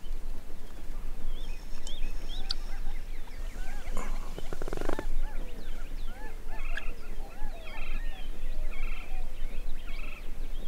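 Wild turkeys gobble repeatedly at a distance over a busy chorus of birdsong, with a brief louder rustle in the middle.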